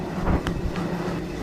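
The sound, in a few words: passenger train arriving at station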